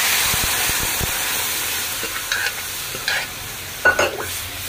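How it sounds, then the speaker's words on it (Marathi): A spoon scrapes and stirs moong dal (split mung lentils) into a pot over a steady sizzling hiss, with a few clinks and knocks toward the end. "डाळ टाकून आपण पूर्ण मिक्स करून घेऊया"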